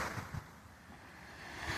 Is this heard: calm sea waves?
yes